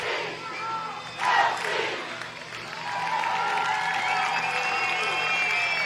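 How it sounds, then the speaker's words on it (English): Hometown fans at a state final softball game roar and cheer after a big hit, a loud crowd swell with shouts and some clapping that builds and stays high. "Listen to this crowd."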